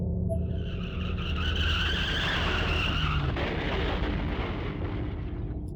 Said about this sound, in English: Another car accident right outside my door.